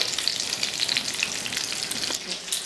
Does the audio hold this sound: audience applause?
no